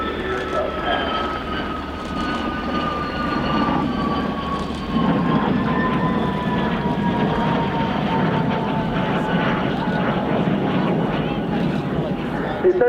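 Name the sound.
Lockheed U-2S Dragon Lady aircraft flying a gear-up pass at air show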